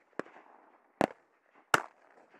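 Three sharp Beretta A400 Xtrema shotgun blasts fired at a bird during a parrie hunt in Northland, New Zealand, spaced about a second apart, each loud and close with a short trailing echo.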